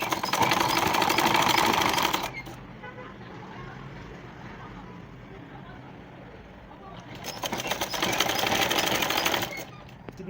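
A sewing machine stitching a dress sleeve runs in two steady, loud whirring bursts, separated by a quieter pause of several seconds.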